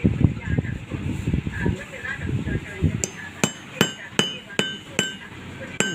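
Sharp metallic hammer strikes setting snap buttons, about seven evenly spaced taps in the second half, following a stretch of nearby talking and handling noise.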